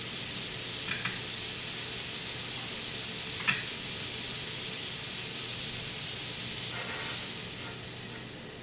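Butter sizzles steadily in a frying pan as eggs cook in holes cut in slices of toast, a constant crackling hiss with a few soft clinks, fairly close.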